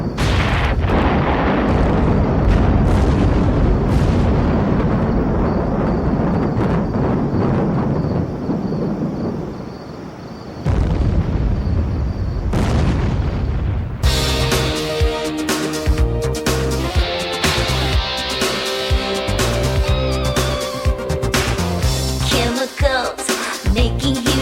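Huge chemical-reaction explosions roar as a long, loud rumbling blast that fades, then a second burst of crackling, booming noise follows and continues to the end, with no talk.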